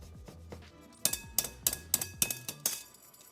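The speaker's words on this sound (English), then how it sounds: "we're also gonna go ahead and zest 1 clove of garlic" A clove of garlic is zested on a fine grater in about seven quick, rhythmic rasping strokes, close and crisp with no talk over them.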